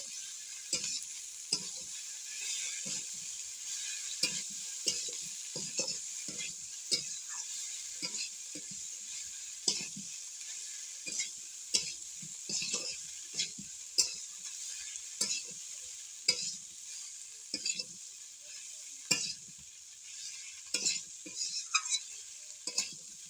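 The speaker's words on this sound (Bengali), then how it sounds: "ভালো করে নেড়ে চেড়ে নেব একটু" Khichuri of rice and lentils is stirred in a pot over steady frying sizzle, with scattered spoon scrapes and taps against the metal. Close and fairly quiet, with no talking.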